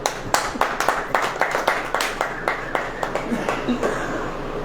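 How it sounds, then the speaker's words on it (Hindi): A church congregation claps hands in a steady, rhythmic beat, loud and close, with sharp evenly spaced claps for several seconds and a faint voice underneath. "ताली बजाओ।"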